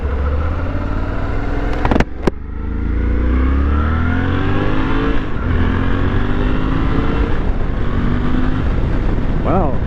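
A Suzuki 800DE motorcycle on its first ride pulls away, its engine note rising steadily and loud under acceleration, with a couple of sharp knocks early on and continuous engine and wind noise throughout.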